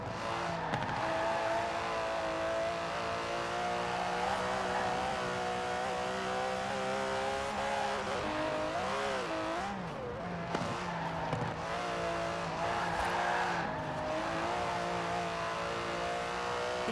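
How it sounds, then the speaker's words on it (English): An Aston Martin DB11 engine drives steadily in Forza Horizon 4, a continuous loud droning note that climbs and dips as the revs change, with tire noise and no talk. "The DB11 is not the fastest car in the world, but then it's not trying to be."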